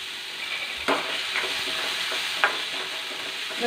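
Tomato and curry leaves sauté in a hot pan, giving a steady close sizzle with occasional scrape-and-stir bursts from a spoon moving through them.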